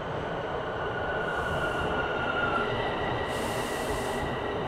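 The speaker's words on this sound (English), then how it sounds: "Here comes a train." A train rumbles past in midtown Toronto, a loud, steady roar of wheels on track with a thin metallic squeal above, heavy and close throughout.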